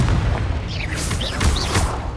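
A Confringo fire spell bursts in Hogwarts Legacy, a heavy boom layered with whooshing, swirling magical tones, loud and close, with no speech over it.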